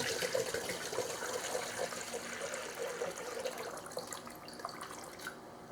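Distilled water pours from a gallon jug in a steady, continuous splashing stream, close and fairly quiet, easing off near the end.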